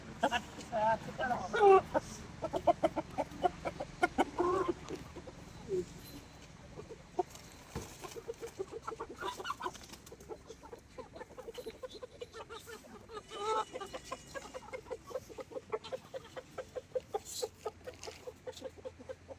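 Chickens and a rooster cluck and call around a home, a steady run of close, repeated clucks continuing throughout, with speech mixed in at times.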